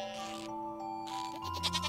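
Bleating goat from the Stardew Valley farming game, a short synthetic bleat rising over the game's background music, close and moderately loud.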